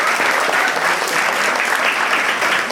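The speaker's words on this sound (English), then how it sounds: "All right, round of applause for the volunteers." Loud, sustained crowd applause for the volunteers at a comedy hypnotist show on First Night in State College, Pennsylvania, a dense, even roar of clapping hands that barely varies across the whole stretch.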